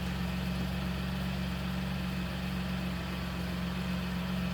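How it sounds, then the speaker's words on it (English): Car engine idling steadily with a leaking exhaust flex pipe, giving a continuous low hum and rumble, close and moderately quiet with no talk. "don't know if you could hear that. flex pipe back there leaking"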